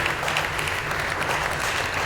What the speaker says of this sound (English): So big applause for all the startups.